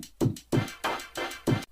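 Drum kit assembled from Glow Hockey game sounds, including a goal sound at two pitches, processed with compression and reverb: five punchy hits in a steady beat, each with a low thump and a bright reverberant tail.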